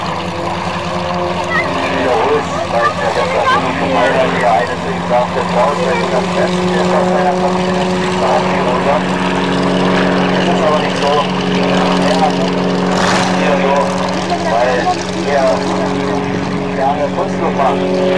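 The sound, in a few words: propeller airplane flying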